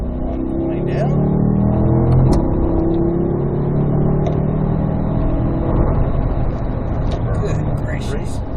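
A Corvette accelerates on a track as the throttle is rolled on, the engine note rising steadily and loudly from inside the car, with people talking over it.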